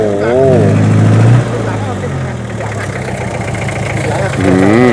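A dump truck engine idles and runs steadily up close as the truck reverses in a low gear, with a loud, rough rumble that swells at the start and end while someone talks over it.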